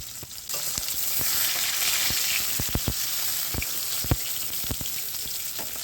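Fish rubbed with turmeric and salt, including three small leda fish, frying lightly in a pan with a steady close sizzle and scattered sharp oil pops and spatula clicks throughout.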